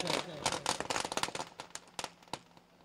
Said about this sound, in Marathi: फटाक्यांच्या आतिषबाजीमध्ये नितीन पाटील यांचं स्वागत इथे करण्यात येत आहे.